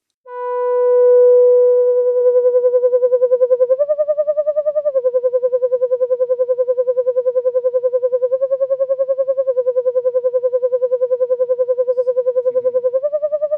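A loud, smooth Juno 106-style synth lead holding a mellow, hollow tone, stepping between a few sustained notes with a slight pulsing wobble.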